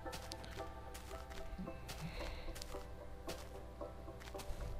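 Chickens cluck in a Minecraft survival game, quiet, repeated in-game fowl sounds layered over steady background game noise.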